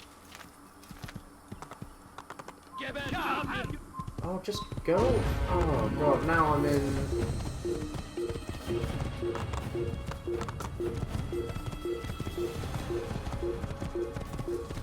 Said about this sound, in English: Oh, we got the white horse now,